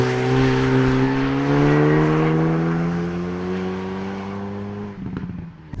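A 2018 Hyundai i30 N hot hatch in sport exhaust mode, its engine holding a loud, steady droning note with slowly rising pitch before easing off, then a few sharp pops and crackles near the end.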